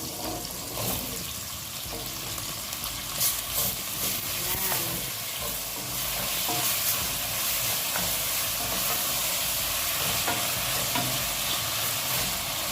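Vegetables sautéed with tomato are stirred in a pan with chicken, a steady sizzle and frying crackle running throughout with scraping and clinking of the utensil, plus a faint splash of water near the sink in the background.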